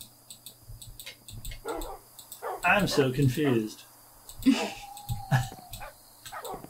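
Dogs bark and yip in Minecraft, on a custom map, with short barks scattered under a person's nearby talk.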